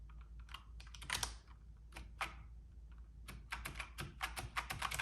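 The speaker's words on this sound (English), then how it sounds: "So I'm gonna try to press 1 through all the number keys" Typing on a Logitech K845 mechanical keyboard with brown switches and Corsair PBT double-shot keycaps: bursts of several quick, close keystrokes pressed together, rattling clicks in clusters with short gaps, no talking.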